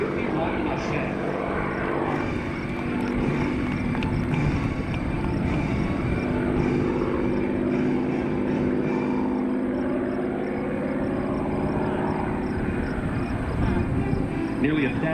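A P-51C Mustang warplane named Redtail flies at the 2024 Rochester, New York airshow, its propeller engine droning continuously and swelling as it passes, while an announcer talks over the engine noise.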